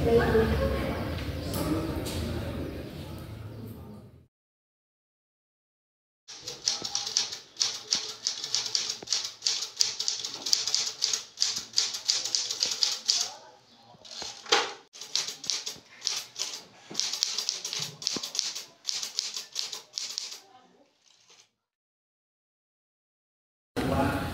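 Manual typewriter keys clacking in irregular bursts with occasional pauses and carriage sounds, typing out Indonesia's proclamation text in a school film reenactment; speech is heard at the start.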